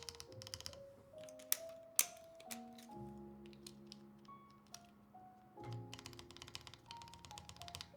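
Keys clack on a TGR Jane V2 CE mechanical keyboard with a split backspace, a quiet run of irregular taps and sharper strikes, with some faint tonal sound underneath.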